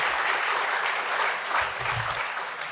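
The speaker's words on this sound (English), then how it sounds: "Please, can you give a round of applause if you understand what this means?" Audience applause at a government sensitization campaign against underage gambling in Enugu, a steady dense clapping crowd filling the whole stretch, with a faint voice murmuring briefly near the end.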